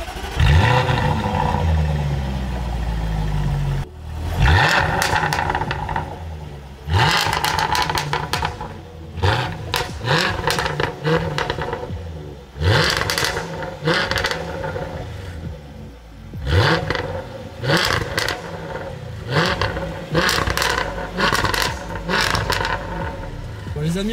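Jaguar F-Type SVR with factory titanium exhaust fires up with a sharp bark, then revs hard in repeated loud blips and roars that settle briefly between bursts, close up and dominating.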